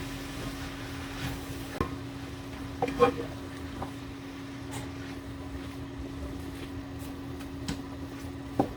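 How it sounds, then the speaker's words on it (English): Chicken pieces sizzling in a frying pan for a spicy Pollo Loco dish, a steady low crackle with a constant hum underneath and a few sharp pops and spatters. "We're going to let these fry."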